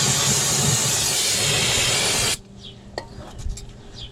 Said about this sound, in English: Got some brake cleaners here,